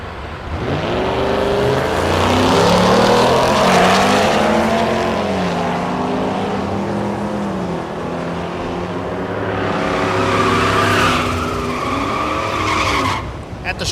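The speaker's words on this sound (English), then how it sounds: "Watch this little BMW with a diesel on it." A diesel BMW and a Ford Mustang drag racing at Thunder Valley in Noble, Oklahoma: loud engines roar and rise through the gears, with tire noise and a crowd-like wash. The engine sound swells again toward the end.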